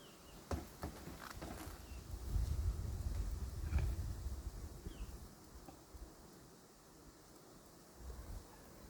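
A steady low buzzing of many bees crowding around a queen cage fills the air, with occasional soft bumps and rustles nearby.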